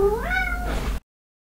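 A cat gives one loud, close meow that bends up in pitch and then drops, lasting about a second before everything goes silent.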